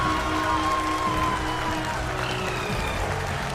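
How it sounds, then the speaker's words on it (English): Steady, dense applause from a crowd, sustained at an even level from start to finish, with faint tonal hums running beneath it. "People are applauding."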